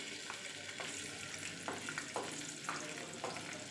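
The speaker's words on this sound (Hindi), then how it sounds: "और सुनहरी रंग आने तक हम इसको इसी तरह से फ्राई करते रहेंगे।" Chopped garlic fries in hot oil for a dal tadka, a soft steady sizzle with occasional light stirring scrapes, close but quiet, and no talk over it.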